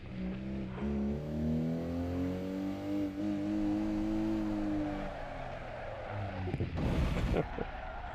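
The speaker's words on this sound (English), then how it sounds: "And I already crashed the car, nice." Racing car in Assetto Corsa Evo revving with a steady engine drone that drops in pitch, then a short loud rough burst of impact and scraping as the car crashes near the end.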